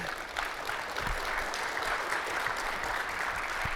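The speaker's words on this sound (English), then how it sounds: "So, round of applause for you." Audience applause at a technology conference session, a dense, steady wash of many hands clapping throughout, moderately loud and heard without any talk over it.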